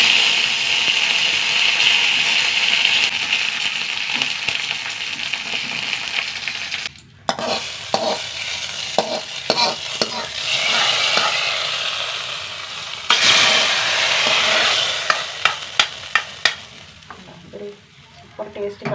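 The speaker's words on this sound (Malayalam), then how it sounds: "വെളിച്ചെണ്ണ നന്നായി ചൂടാവട്ടെ. കുറച്ച് കടുക് ഇട്ട് കൊടുക്കുക." Mustard seeds and curry leaves sizzle in hot coconut oil with a loud bright hiss and a burst of spattering crackles, followed by a brief drop and then scattered sharp pops and stirring clatter.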